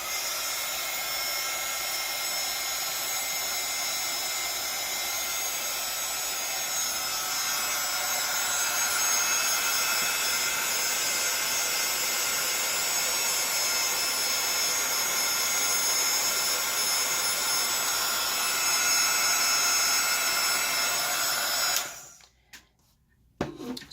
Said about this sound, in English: you are going to turn on your heat gun. Now this is going to make a little bit of a noise